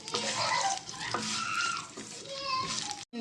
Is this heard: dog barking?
no